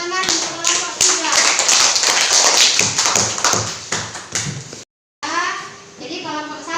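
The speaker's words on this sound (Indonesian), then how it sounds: "Tepuk tangan untuk kelompok 3" Children in a classroom clap for a student group, a burst of sharp, uneven hand claps and taps filling most of the moment, with young voices chattering through it and a short silent gap before talk resumes.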